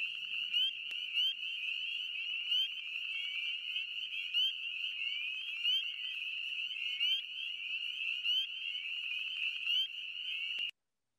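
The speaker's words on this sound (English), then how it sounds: "spring peepers are kind of deafening if you're around a whole lot of them at once" A dense chorus of spring peepers in a wetland, many high-pitched peeping calls overlapping into a continuous, loud, shrill wall of sound for several seconds before stopping abruptly.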